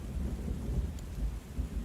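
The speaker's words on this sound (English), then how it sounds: "Thunder growling, waves pounding, finally sprawled on the sodden sand of the beach." A low thunder rumble rolls under a constant wash of rain in the video game Book of Hours, a dark, steady storm bed at moderate volume with no voices.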